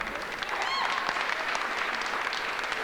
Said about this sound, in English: Let's give it a round of applause for Greg and the team for Secret Knock.